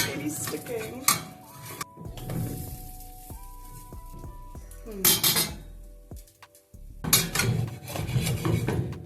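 Spatula scraping and turning sticking cottage cheese flatbreads in a frying pan: several scraping clatters and metal-on-pan knocks in bursts, with soft sizzling between and a person talking quietly at times.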